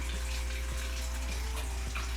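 Kitchen tap running steadily into a cup while waiting for the water to warm, a continuous close splashing hiss with a low hum underneath.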